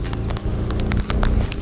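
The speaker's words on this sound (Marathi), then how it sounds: "पाऊस तर जोराचा पडतो आहे." Heavy monsoon rain falls during a ride near Panvel, heard as a dense spattering hiss with scattered sharp drop impacts over a low, steady rumble of traffic.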